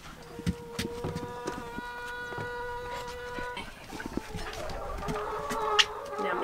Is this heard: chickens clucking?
yes